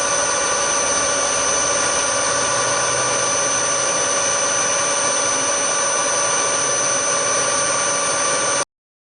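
A steady, loud high-pitched drill whine runs continuously for several seconds as it bores through metal, then cuts off abruptly.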